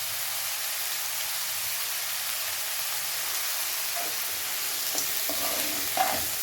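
Capsicum, cabbage and carrot stir-fried in a hot pan for vegetable noodles make a loud, continuous hiss, with a few scraping stirring sounds near the end.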